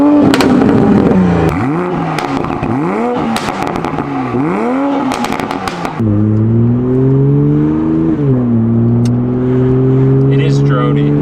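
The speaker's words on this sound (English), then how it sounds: "hearing what the car sounds like with a full muffler delete" A 2020 Toyota GR Supra with its muffler deleted revs up and down in loud, raw, sharp repeated bursts, then settles into a deep, droning steady rumble.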